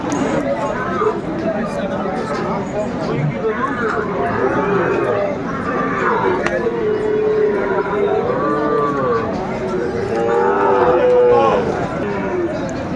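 Sahiwal bulls and calves at a busy cattle market in Chattogram low and moo repeatedly, the long drawn calls rising and falling over a constant crowd murmur and nearby talking.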